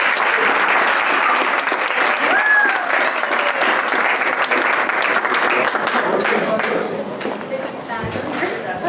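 Loud, sustained applause from a dinner audience welcoming the host at an annual personal injury law firm dinner, with crowd chatter mixed in and tapering off near the end.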